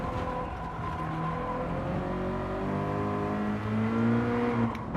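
A race car engine drones and revs in a racing video game on a track with a chicane, its pitch sliding down and up through gear changes as the car brakes and accelerates, steady and fairly loud throughout.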